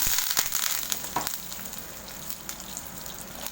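Curry leaves hit hot oil with mustard seeds, urad dal and dried red chillies, giving a close crackling sizzle with sharp spattering pops early on that settles into a softer steady fry.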